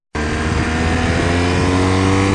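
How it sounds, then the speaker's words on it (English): A motorcycle fitted with an aftermarket Remus Hexacone slip-on exhaust starts abruptly and idles with a deep, throaty, steady exhaust rumble, loud and close by, with no voices. "this exhaust is louder and it has a different tone."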